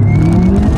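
Volkswagen Arteon 2.0 TSI tuned to 480 PS making a full-throttle launch-control start, its engine roaring loud and close with a rising tone as it pulls away.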